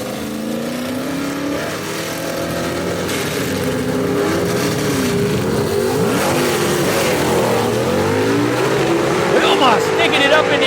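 Gasser drag race cars, among them a '67 Camaro, launch at Brainerd Motorsports Park in a Southeast Gassers Association event. Loud engines roar and rev with shifting, sweeping pitch, and an announcer talks over them throughout.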